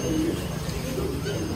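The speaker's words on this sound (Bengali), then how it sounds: "আর এগুলা কি কবুতর?" Pigeons coo at a market stall selling racer and fancy breeds, soft low burbling calls close by that repeat over a short moment amid background chatter.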